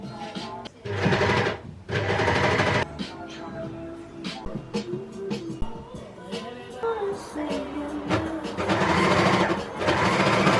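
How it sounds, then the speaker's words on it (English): A sewing machine top stitching a seam on a handmade jersey, running in several loud buzzing bursts separated by short pauses, with faint voices and other noise in between. "I'm gonna top stitch it, which means just running a row of stitches along the top with my sewing machine"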